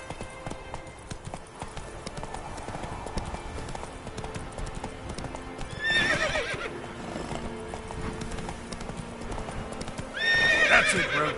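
Roach, a horse in a video game, gallops with a steady, rapid clip-clop of hooves. Two loud whinnies break in around the middle and near the end, with a faint voice in the background.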